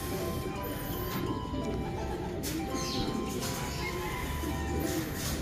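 Racing pigeons arriving at a loft during a mid-distance toss in Rosario, La Union, with soft cooing and bird calls over a continuous outdoor rumble and wind.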